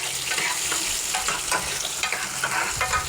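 Small onions for tomato chutney crackle and sizzle in hot oil while a spoon scrapes and stirs them in the pan, a steady close frying hiss with soft rhythmic stirring.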